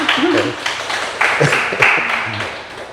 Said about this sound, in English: can we give Fern a round of applause, please?